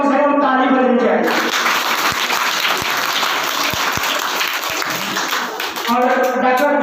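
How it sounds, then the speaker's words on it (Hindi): An audience at a Bihar Day school ceremony breaks into loud, sustained applause for a student prize-winner, a dense wash of clapping lasting several seconds, with someone speaking briefly before it begins and again after it fades. "इसके स्वागत में आप लोग की तरफ से कम से कम ताली बजनी चाहिए।"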